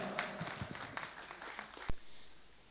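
An audience at the Urdu Jalsa 2024 grand mushaira in Mumbai claps to welcome poet Ashu Sharma. The dense applause runs for a couple of seconds, ends with a single dull thump, then falls to near quiet.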